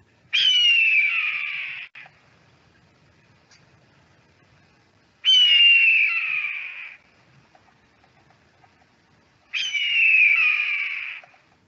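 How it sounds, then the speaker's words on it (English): A red-tailed hawk gives three loud, hoarse descending screams, each about two seconds long and a few seconds apart, with quiet gaps between them. "It's a red-tailed hawk, magnificent."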